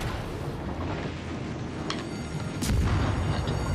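Warship guns booming in World of Warships Legends, a continuous dense rumble of distant naval gunfire and explosions with a louder burst near the end, no voices.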